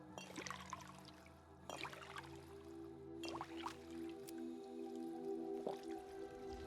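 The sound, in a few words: drinking water in the video game Fallout 4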